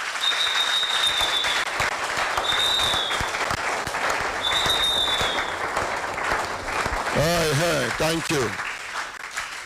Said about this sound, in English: Make una clap for her